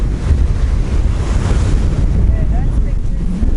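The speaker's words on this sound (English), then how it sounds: "Oh no, I spoke too soon on the wind." Strong wind buffets the microphone on an island beach in the Torres Strait, a loud continuous low roar with surf washing behind it, no speech.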